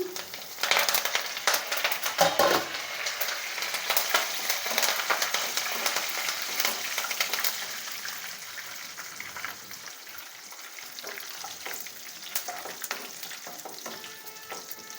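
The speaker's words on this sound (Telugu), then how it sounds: "తర్వాత వెల్లుల్లిపాయ రెబ్బలు కచ్చాపచ్చా దంచుకొని అవి కూడా తీసుకోవాలి కరివేపాకు వేసుకోవాలి" Crushed garlic cloves and curry leaves fry in hot tempering oil for Guntur gongura pachadi, making a loud crackling sizzle that gradually settles into a softer, steady fry with occasional stirring clatter.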